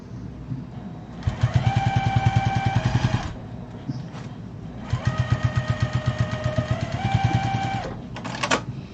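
Two long runs of a sewing machine stitching through a fabric sewing-machine mat, a rapid rhythmic needle clatter with a whirring motor, stopping briefly in between, close and fairly loud.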